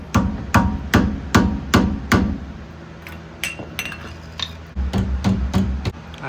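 Hammer blows on the rear axle hub of an 08 Honda Fit: sharp metallic strikes in a steady rhythm, close and loud, with a brief pause before another quick run of hits.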